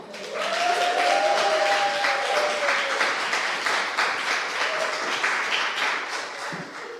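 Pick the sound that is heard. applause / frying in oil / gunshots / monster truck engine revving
applause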